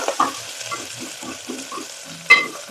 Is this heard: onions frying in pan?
yes